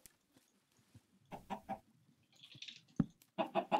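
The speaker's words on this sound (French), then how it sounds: "y'avait les poulets" Blocky chickens clucking in a Minecraft UHC run, a few short clucks scattered through the clip with quiet game sounds around them and no talk.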